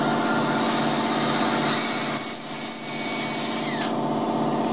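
A power drill drives screws through pre-drilled holes into the jamb leg of an interior door, a loud continuous whir up close with pitch shifts as the screw seats.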